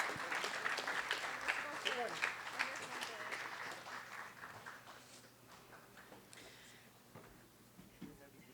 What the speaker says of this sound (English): If I can get a round of applause for Mr. Chavarria, Mr. Cepeda, Miss Eads, who's not here, and Miss Reyes.